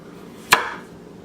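A knife slices down once through the peel of a butternut squash, giving a single sharp chopping thud on the board followed by a short scrape, alone and close.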